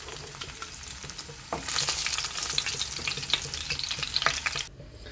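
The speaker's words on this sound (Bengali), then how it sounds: "মাছগুলো ভাজা হয়ে গেছে, আমি মাছগুলোকে এবারে তুলে নিচ্ছি।" Pabda fish fry in hot oil, a steady crackling sizzle that grows louder partway through, with spatula scrapes and taps on the pan, close up and without speech, then cutting off abruptly.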